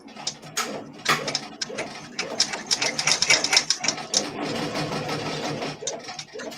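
An embroidery machine stitching an in-the-hoop project, running as a rapid, uneven mechanical chatter of needle strikes that speeds up and slows, close and fairly loud, with faint background sound underneath.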